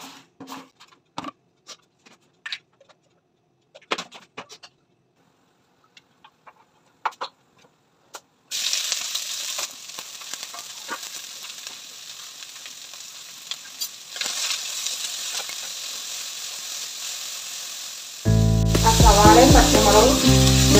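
Garlic, ginger and curry leaves hit hot oil and break into a loud, close sizzle after a stretch of scattered clinks, the frying growing harsher and louder toward the end.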